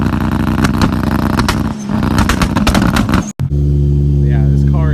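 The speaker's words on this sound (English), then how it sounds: "If I can find a clip, I'll insert a clip of some two-step from last year, so you guys can see that." A 1UZ V8 swapped into a Toyota Celica revs hard on a two-step launch limiter. The engine note is loud and close, with rapid stuttering pops, a brief cut near the end, then a steady high drone.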